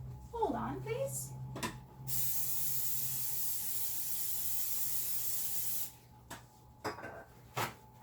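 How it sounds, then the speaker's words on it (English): Pam olive oil cooking spray hisses in one long, steady burst of about four seconds into the holes of a baking pan, close and loud, with a short voice and brief clatter before and after. "Okay, I have sprayed inside all of the holes."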